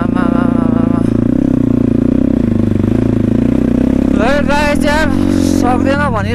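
A motorcycle climbs a snowy mountain road at Karpu Danda near Pokhara, its engine holding a steady, loud drone throughout, with voices talking over it toward the end.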